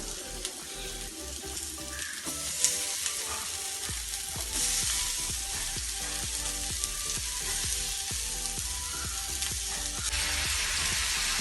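Tomatoes fry in a hot pan for bread anda bhurjee, giving a loud, continuous sizzle up close, broken by occasional clicks and scrapes of stirring.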